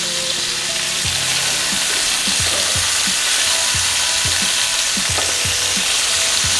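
Beef rouladen searing in a pan, a loud, steady sizzle and crackle of meat in hot fat, close up, with repeated soft knocks of a utensil shifting the rolls.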